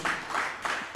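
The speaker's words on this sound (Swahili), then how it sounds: "Tumuhurire makofi agiuka" A church congregation claps to welcome a visiting pastor, several quick bursts of hand clapping close and fairly loud, brief and alone.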